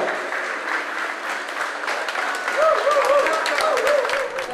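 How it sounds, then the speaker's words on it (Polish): Applause at a sports awards ceremony honoring the best athlete of 2010: a crowd claps steadily at moderate level, with a few tonal voices or music faintly rising through the second half. "Wielkie brawa! Ziemi wielkie, wielkie brawa!"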